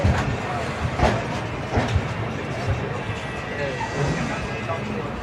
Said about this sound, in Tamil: காட்பாடியிலேருந்து ட்ரெயின் கிளம்பிச்சுங்க.